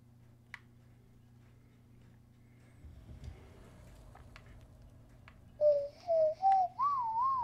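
A person whistles the Athena opening tune from Sea of Thieves, a clear, close melody of rising and falling notes that comes in near the end after a quiet stretch with a few small clicks.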